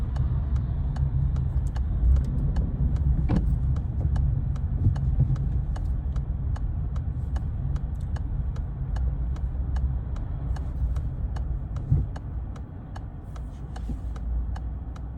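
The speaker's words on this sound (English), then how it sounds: "oh no, there's traffic" Road traffic forms a steady, loud low rumble throughout, with a faint regular ticking running over it.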